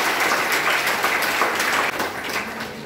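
Loud, steady applause from a school audience at a Kargil Day ceremony honouring retired army personnel, dense continuous clapping that holds for the whole stretch with a slight dip near the end.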